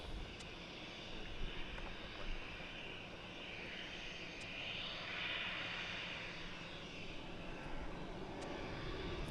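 Faint, distant jet airliner in China Southern special livery at Gatwick Airport, a soft steady engine wash swelling slightly midway, with no talk.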